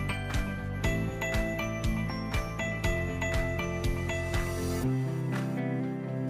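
Self-tapping screws driven in while mounting an instrument on a tricycle, a rapid ratcheting click train repeating steadily, close and fairly loud, with metallic ringing tones underneath before it stops near the end.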